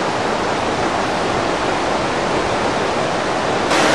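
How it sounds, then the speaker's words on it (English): Wall Creek tumbles fast through an old-growth forest of ferns and tall trees, making a dense, steady rushing roar of water that is loud and continuous, with no voices over it. "Wall Creek comes tumbling down pretty fast on its way down toward the Willamette River"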